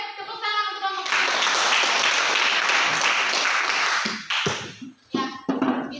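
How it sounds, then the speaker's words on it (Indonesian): A classroom of students claps for a presenting discussion group, the applause dense and sustained for about three seconds before tapering off into scattered claps, with a voice speaking at the start and again near the end. "tepuk tangan untuk kelompok 3"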